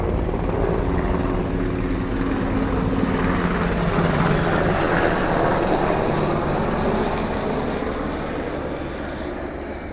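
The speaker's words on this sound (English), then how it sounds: "Here comes a helicopter. Oh my, it's low." A low-flying helicopter passes overhead above a Florida butterfly garden, its loud, broad rotor roar filling the air steadily and then easing slightly as it moves away.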